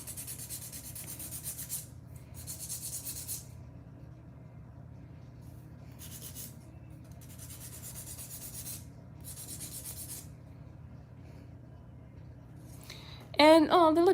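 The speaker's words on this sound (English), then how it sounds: "we're gonna clean up these side walls because it's a little thick, but from filing this way." Fingernails being filed and shaped with a nail file, close up: repeated rasping, scratchy strokes in bursts with short pauses, over a steady low hum, ending with a brief moment of talk.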